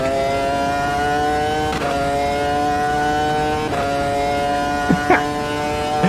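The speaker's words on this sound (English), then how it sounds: "this high-revving V10 engine just sends absolute shivers down your spine" A high-revving V10 racing car engine in the video game Automobilista 2 sings a steady, sustained whine, dipping briefly at each gear shift before climbing again, loud and continuous throughout.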